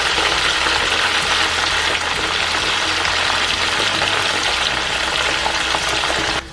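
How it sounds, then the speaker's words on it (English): Steady, loud sizzling and crackling of chicken wings frying in hot oil, continuous and dense, with no voices. "we'll be frying them until they are golden brown"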